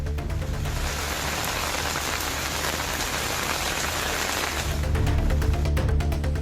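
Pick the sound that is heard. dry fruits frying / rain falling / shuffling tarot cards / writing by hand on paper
rain falling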